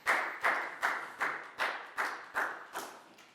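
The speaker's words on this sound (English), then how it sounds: "Big round of applause for Net" Students in a Year 4 classroom give a round of applause: eight evenly spaced group claps in a steady rhythm, moderately loud and close, with no talking over them.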